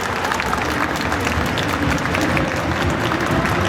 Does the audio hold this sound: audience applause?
yes